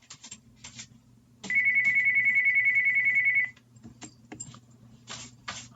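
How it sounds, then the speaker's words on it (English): A phone ringtone in the Taptap Heroes game chirps in a rapid trilling pulse for about two seconds, loud and close, between stretches of quiet background music. "phone won't stop ringing."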